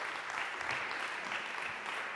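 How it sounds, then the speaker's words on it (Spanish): Steady applause from the audience at the Gala Crear 2021 welcoming the performer playing Caterina, mother of Leonardo da Vinci, a dense, even wash of clapping with no voices. "Fuerte el aplauso."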